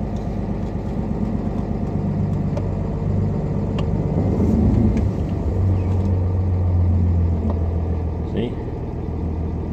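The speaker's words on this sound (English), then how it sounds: "As soon as you move just a little, that idle will come right down." A truck engine idles with a steady low rumble throughout, its pitch settling lower partway through, while someone talks over it outdoors in snow.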